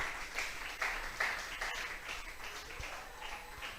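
A church congregation applauds at a worship service, a faint, distant wash of clapping that stays fairly steady for a few seconds.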